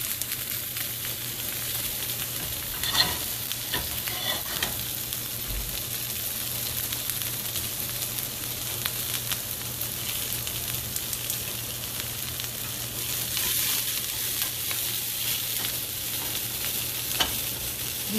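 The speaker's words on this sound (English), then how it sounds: "And while this is sauteing," Vegetables, peppers and onions among them, sauté in a hot pan with a steady, even sizzle for a long stretch. Occasional soft stirring clicks sound through it, with no voices.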